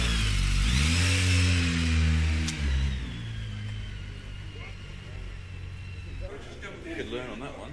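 A BMW motorcycle engine revs loudly up and down at close range, then settles to a lower idle with people talking nearby.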